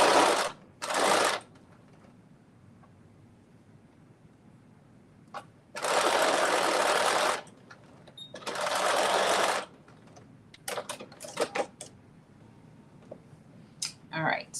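A sewing machine stitches a lace garment seam in three or four separate bursts, each one to two seconds long, with quiet handling and small clicks between them.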